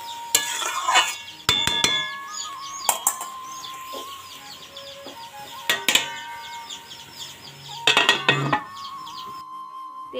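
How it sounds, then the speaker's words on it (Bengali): Cabbage is stirred in a wok, with several separate metallic scrapes and clatters of a utensil against the pan spaced over a quiet background. "কড়াইতে আমি বাঁধাকপিগুলো দিয়ে দিয়েছি, ভালোভাবে নাড়াচাড়া করে নিচ্ছি।"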